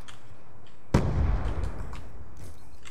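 A sticky grenade detonates in Call of Duty: Black Ops II multiplayer, one sudden loud blast with a rumbling tail that fades over about a second, no voices.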